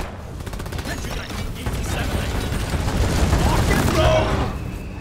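A sentry gun fires in the video game Deep Rock Galactic, sending loud rapid rattling bursts through a dense mix of mechanical clatter and game effects, with voices talking over it.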